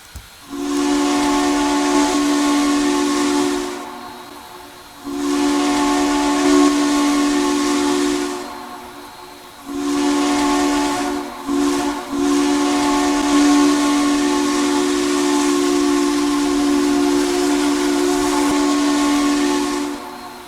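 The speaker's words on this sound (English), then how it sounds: "So here's the whistle for the modern 630." A loud three-chime steam train whistle for a Southern 630 locomotive in the Trainz video game sounds in four long blasts with brief gaps, breathy and hissing, alone without talk.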